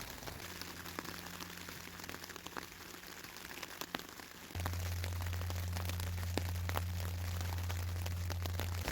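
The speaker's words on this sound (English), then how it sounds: "That rain isn't showing any sign of going off, and James's tent is leaking badly." Heavy rain patters steadily on tents at a high campsite, a dense continuous hiss of drops with a low electrical hum underneath that grows louder partway through.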